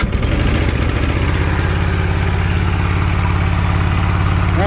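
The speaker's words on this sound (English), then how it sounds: "started it up, fired right up, ran. Motor ran." A Toro TimeCutter riding mower with a 42-inch deck runs its engine close by, a loud, steady chugging drone with an even pulsing rhythm throughout.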